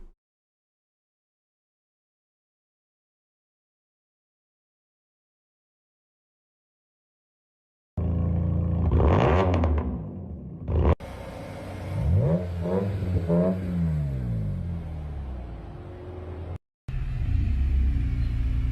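A GTR with side exhaust and stock headers revs loudly up close after a long silence, rising and falling through several sharp throttle blips with brief cut-outs.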